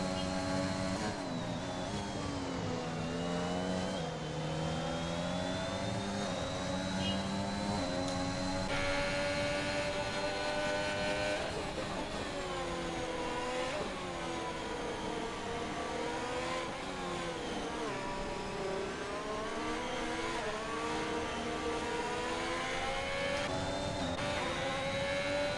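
Race cars in a racing video game on the final lap at a French circuit, engines droning and revving continuously and loud throughout, pitch rising and falling with gear changes, with commentary voices over the top.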